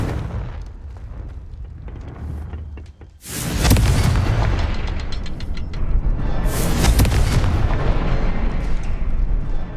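Confringo fire spell blasts in Hogwarts Legacy: after a brief lull, a heavy booming explosion bursts loudly and rolls on with crackling debris, followed by further sharp bangs over sustained rumble, no voices.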